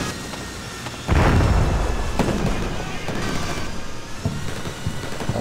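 Anti-personnel mines burst beneath tanks in a military strategy game, one loud, close blast rumbling out and then decaying into crackling debris with a few smaller thuds.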